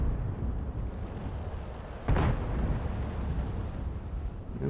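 A single booming artillery cannon shot from a Hummel self-propelled gun in a video game erupts midway through a dense, rumbling battle din, its blast briefly standing out before the steady roar continues.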